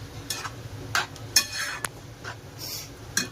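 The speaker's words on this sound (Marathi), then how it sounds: "सर्व ढवळत राहायचं." A spoon stirs semolina upma in a pan over a low gas flame, giving scattered soft scrapes and light metallic clinks against the pan, fairly quiet and irregular, with no talking.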